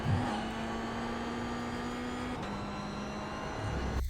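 A Toyota GR86 race car engine in the iRacing sim holds full throttle with a steady, droning note that runs loud and unbroken, dips slightly in pitch partway through, then surges again at the end.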